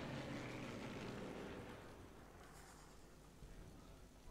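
A propeller airplane flies overhead in the WWII shooter Sniper Elite 3 at the Siwa Oasis, a broad steady engine drone that is loudest at first and then eases to a lower, even rumble.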